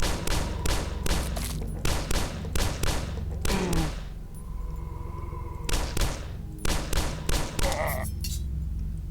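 Pistol shots ring out in quick, evenly spaced bursts in a video game, sharp, loud and close with metallic clinks between volleys. A short pause breaks the firing before it resumes.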